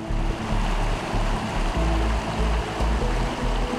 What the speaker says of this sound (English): like that one just bubbling hot water out